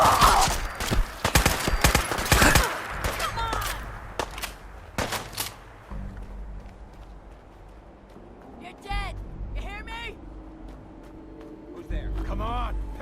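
Gunfire in the game Fallout 4, a burst of sharp loud shots cracking in quick succession, then thinning into scattered distant pops among quieter stretches while voices speak.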